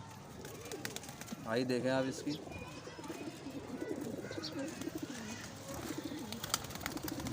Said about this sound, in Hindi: ये मेल कबूतर है, वैशी है ये।